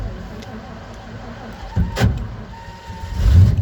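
A Ford F750 truck with a faulty starter and a flooded engine cranks and tries to start, giving a brief burst near the middle and a rougher rising engine roar at the end over a low idle-like background.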